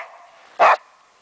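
A single sharp dog bark rings out outdoors on a snowy, icy day, loud and brief against a quiet background.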